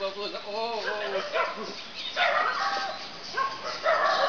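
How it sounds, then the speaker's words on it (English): Several dogs barking and yelping in a rapid, overlapping chorus near a reservoir in Nakhon Si Thammarat, Thailand, loud and close, with bursts of barking rising again toward the end. "Now we got the dogs."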